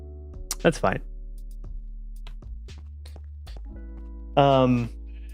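A single Minecraft sheep bleats near the end, a short wavering baa over a steady low game hum, after scattered block-placing clicks and footsteps.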